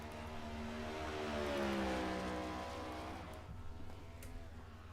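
Race car engine at full throttle on the New Hampshire oval in iRacing, a sustained loud, rising and falling whine of revving tones that fades slightly near the end.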